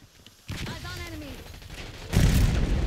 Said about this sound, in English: Tossing Semtex. Flashbang out.